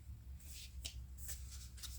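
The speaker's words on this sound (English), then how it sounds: "At that point, we'll start another shuffle." Tarot cards are shuffled by hand in a few quick riffling bursts, close and soft against a quiet room hum.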